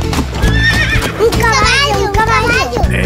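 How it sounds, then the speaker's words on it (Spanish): A horse neighs in a whinnying series of rising and falling calls over a children's song backing, with bright musical accompaniment and voices throughout. "¡Es un caballo!"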